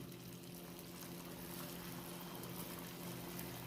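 Coconut patties fry in hot oil, a continuous soft bubbling sizzle that stays even and fairly quiet throughout.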